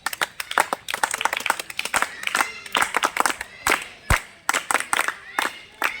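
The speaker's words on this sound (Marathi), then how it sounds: "आपण तीन टाळ्या वाजून आनंद पद्धतीने स्वागत करूया" Students clap together in a group welcome for a visiting official at a school, sharp bursts of applause in quick irregular rhythm, fairly close and loud, with short pauses between rounds.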